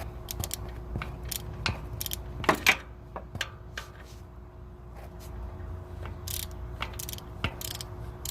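Ratchet socket wrench with a 14 mm socket clicking while loosening an alternator bolt on a Toyota Rav4, a steady series of sharp, close ratcheting clicks in a quiet garage.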